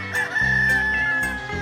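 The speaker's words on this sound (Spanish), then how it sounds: "los gallos no pasan desapercibidos porque se les oye en todo el valle" A rooster crows loud and close in the Curueño valley of León, one drawn-out cock-a-doodle-doo with rich harmonics that swells and then tapers off.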